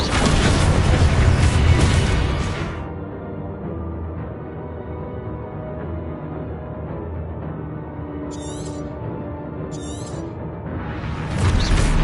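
Spell blasts of Confringo and Descendo in Hogwarts Legacy burst loud and broad, then fall back into a muffled low rumble with brief crackling flashes before another heavy blast swells in at the end.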